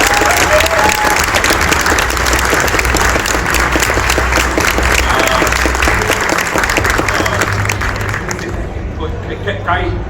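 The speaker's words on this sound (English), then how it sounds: "let's give a big thanks and a round of applause to Ross Marquandin." A large audience at a Q&A with actor Ross Marquand bursts into sustained, loud applause with dense clapping and crowd noise throughout, tapering off near the end.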